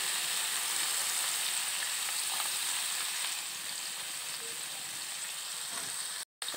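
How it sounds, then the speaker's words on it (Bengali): Finely chopped onions sizzle steadily in hot oil for tawa chicken, a close, even crackling that eases slightly midway and cuts out briefly near the end. "দুটো পেঁয়াজ কুচি কুচি করে রেখেছিলাম গরম তেলের মধ্যে দিয়ে দেবো"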